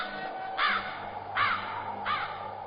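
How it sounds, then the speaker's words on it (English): Three harsh crow caws, evenly spaced and moderately close, rise over a faint steady background hum. "no birds ever sing excepting old crows"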